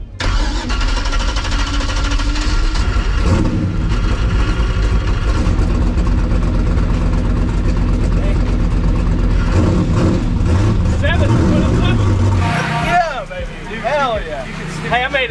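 A loud drag car engine roars steadily while being driven back after a deep sevens pass, a sustained low rumble with shifting revs, easing off near the end as voices talk over it.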